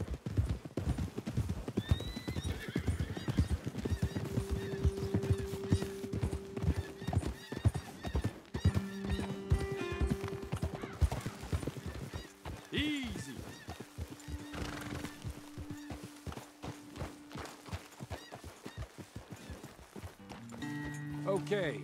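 Horses clip-clop steadily on a trail in Red Dead Redemption II, with a couple of whinnies and neighs rising over the hoofbeats, close and fairly loud, while someone talks intermittently.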